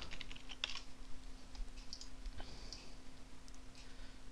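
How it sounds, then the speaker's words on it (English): Light keyboard typing on a computer, a few soft scattered key taps and clicks over a steady low hum, close but quiet, with no talking. "let's type something, let's say button"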